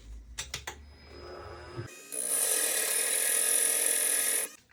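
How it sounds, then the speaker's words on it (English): A GRS Graverhone ONE power sharpener grinding the second face of a V-shaped engraving graver: a few clicks and setup handling first, then a steady, close, high-pitched whirring grind that runs continuously for over two seconds before stopping. "We're now going to sharpen the second face of the V-shaped graver."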